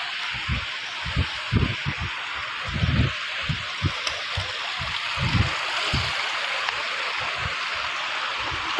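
River water flowing in the Ozat river near Dhanphuliya village during a crossing on foot, a steady close rush and gurgle with irregular low splashes from wading steps.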